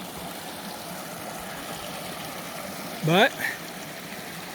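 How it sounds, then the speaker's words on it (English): Mountain spring water trickles steadily on a backpacking route through the Brown Duck and East Basins backcountry, a constant soft wash. A short rising chirp and a single spoken word cut in near the end. "Water. I gotta stop here and fill all my jugs."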